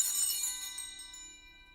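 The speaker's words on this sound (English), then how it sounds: "Right now we have a temporary bell that will be just ring one" A single strike of a temporary bell at a cathedral, ringing bright and clear with a long shimmering tone that slowly fades away, heard alone without voices.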